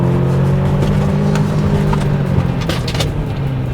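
An Audi TTS accelerating hard after a downshift, a loud steady engine drone heard from inside the car, sustained throughout with no talking.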